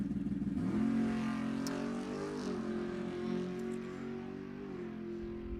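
A 1965 Ford Mustang with a 351 Windsor V8 makes a drag-strip pass at Sacramento Raceway, the engine roaring loudly and revving through gear changes at a distance, holding a strong droning tone for several seconds.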